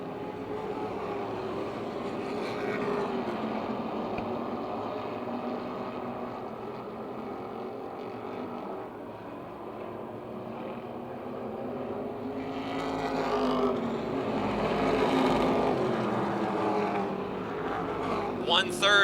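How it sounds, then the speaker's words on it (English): Modified race cars roar around Motordrome Speedway in a 30-lap feature, their engines a steady, layered drone that swells louder near the end as the pack passes close, with a race announcer talking over it. "One-third of the race is completed, and Brian Shipp is running away"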